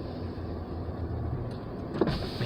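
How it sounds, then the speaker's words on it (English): A car's power window winds down inside the vehicle, a steady low motor whir over cabin noise lasting a couple of seconds, ending with a faint click and thump near the end. "gonna put down a window."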